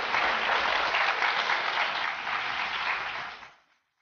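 An audience at a television dating show clapping steadily and densely, fairly loud and unbroken for about three and a half seconds before stopping abruptly.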